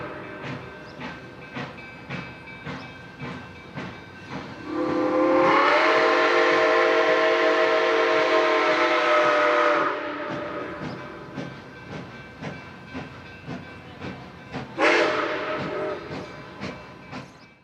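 Steam locomotives 765 and 1225 haul a half-day excursion train at Train Expo 2014 in Michigan, rhythmic chuffing throughout with a loud sustained whistle blast in the middle and a shorter whistle toot later.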